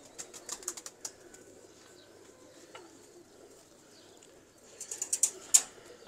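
Pigeons coo softly at a distance, with faint low murmurs beneath scattered sharper chirps and brief wing-flutter bursts toward the start and end, quiet overall.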